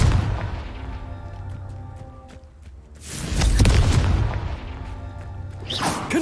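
Confringo fire spell blasts in the Hogwarts Legacy video game, heavy booming explosions with a low rumbling roar, one bursting loudly near the middle and another flaring at the end, with no talk.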